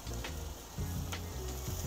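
Butter sizzles steadily in a cast iron pan over a Weber kettle grill, a close, continuous frying hiss with low rumbling flame noise beneath it.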